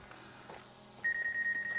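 A drone hovering overhead gives off a steady, sustained electronic beep tone that starts partway through and continues to the end, loud and clear over faint background noise.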